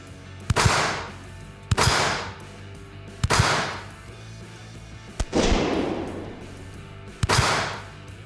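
Gunshots from a handgun fired at a shooting bench at an outdoor range: five loud, sharp cracks spaced a second or two apart, each with a ringing decay, no talking.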